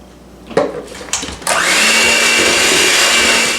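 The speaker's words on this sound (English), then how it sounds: "You want to beat that until it's creamy." A stand or hand electric mixer beats creamed butter and sugar into cookie dough for salted caramel chocolate chip cookies, starting with a few brief bursts and then running as a steady, loud whir close by with no talk.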